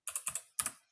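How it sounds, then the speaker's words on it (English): Fingers tap a computer keyboard in five quick, crisp keystrokes, close and clear against silence, in two short groups. "just type T on your keyboard"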